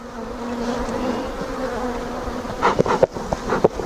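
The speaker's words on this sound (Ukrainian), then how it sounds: "Дуже дуже бджілки себе погано ведуть" Honeybees buzz in a dense, agitated drone close by at an open hive, with sharper bumps and knocks breaking in toward the end.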